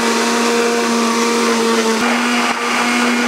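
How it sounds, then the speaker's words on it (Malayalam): An electric blender whirs steadily and loudly, grinding green grapes with sugar into juice. It runs on its own as a constant motor drone with a brief dip near the end. "അപ്പൊ അതെ നമ്മുടെ പച്ചമുന്തിരി അടിച്ചതാട്ടാ"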